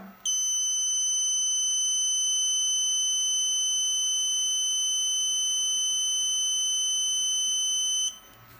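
An induction metal dent remover lets out one long, steady high-pitched electronic beep for about eight seconds after its button is pressed, loud and close.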